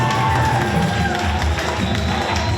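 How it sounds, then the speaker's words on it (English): A crowd cheering and applauding at the ribbon cutting for an arts collective in Newark, a loud, steady roar of voices and claps that holds for the whole stretch. "Please give them a round of applause,"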